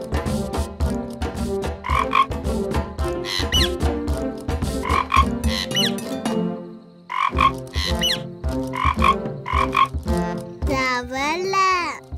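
A cartoon frog croaks over and over in a children's animated show, loud, rhythmic voiced croaks that pause briefly midway, with a possible vocal imitation of the sound.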